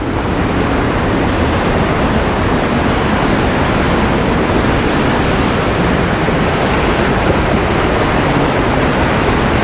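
A river rushes loudly and steadily beside a bamboo hanging bridge in a remote village in West Sikkim, a dense, continuous roar of water with no pauses.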